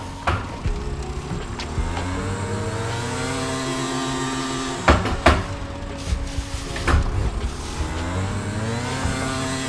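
A steady go-kart engine drone in GTA Vice City rises and falls in pitch, like a small motor revving, with a few sharp knocks and clatters partway through.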